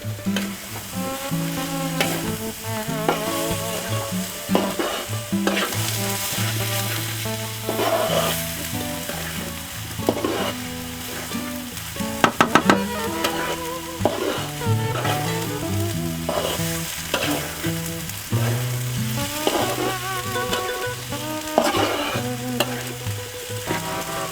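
Shrimp with coconut and chili are stirred in a frying pan with a steady sizzle and scraping, heard under continuous loud music for the whole stretch.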